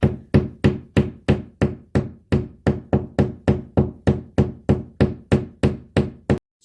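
Steady rhythmic hammer taps lightly driving a plastic anchor into drywall, about sixteen evenly spaced knocks in a row, close and fairly loud with no talking.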